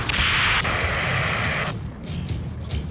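A missile or rocket blast during a helicopter rescue mission in the Ace Combat 7 flight game: a loud, close roaring burst that rumbles for over a second, then fades into scattered lighter thuds.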